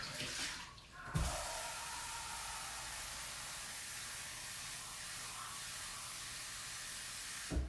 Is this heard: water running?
yes